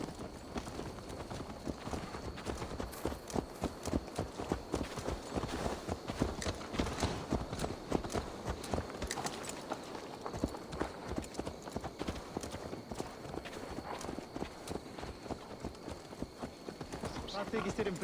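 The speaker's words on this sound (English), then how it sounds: "Let's return the horse" Horse hooves clip-clop steadily in Assassin's Creed Valhalla, a quick continuous trotting rhythm that runs the whole time under frequent spoken dialogue.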